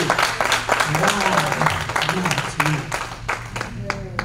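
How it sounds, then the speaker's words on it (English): Hand clapping of praise from a church congregation during a minister's licensing service, brisk claps mixed with voices and a sustained organ or keyboard chord underneath. "Give her another hand clap of praise."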